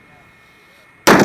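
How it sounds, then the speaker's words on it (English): A Roman candle firework goes off once at about one second: a sudden loud, broadband burst that stays loud as a rushing blast through the rest of the clip, after a quiet stretch of faint background. "if the Roman candle goes off in your hand and goes towards your face"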